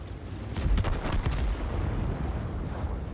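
Tank cannon fire in the World of Tanks game, with an Object 430 on the Abbey map: a burst of booming shots around the first half second to second, then a rumbling low tail, fairly quiet overall with no talk.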